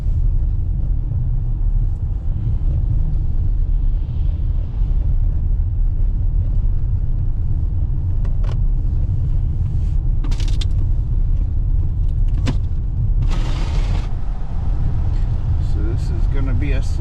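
From inside a car creeping slowly along snowy roads in Springfield, Ohio, a loud, steady low rumble of engine and road noise fills the cabin, with a few brief bumps and hisses.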